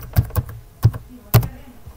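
A few separate keystrokes on a computer keyboard while a root password is entered on a PCLinuxOS desktop, close and sparse clicks with short pauses between them and no talk.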